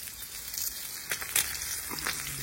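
Hilsa fish from Mawa Ghat fries in a pan, a soft continuous crackle and sizzle with a few sharper spits, fairly quiet and without talk.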